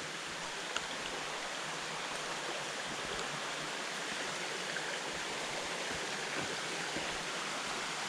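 Steady rushing water of a forest creek on a nature trail, a constant broadband wash with no breaks, close and even throughout, with no voices.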